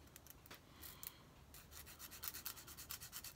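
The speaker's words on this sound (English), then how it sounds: "what we're going to do is now just going to sand this up." Quiet, close rasping strokes of sandpaper rubbing nubs off a plastic part from an Italeri 1:9 Norton motorcycle model kit, faint and irregular with a few brighter scrapes.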